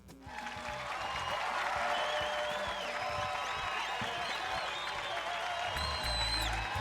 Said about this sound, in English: Let me get the applause ready for you